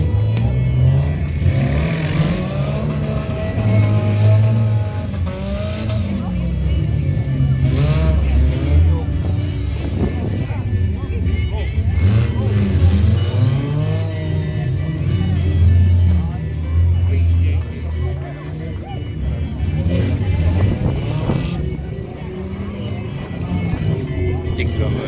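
Race cars at an Estonian motorsport event roar and accelerate past at close range, with engine tones rising and falling over a constant loud drone while a commentator talks throughout.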